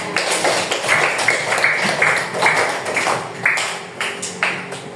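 Classroom applause after students present their group work, a steady crowd of clapping hands with bright repeated bursts over a murmuring room across the whole stretch.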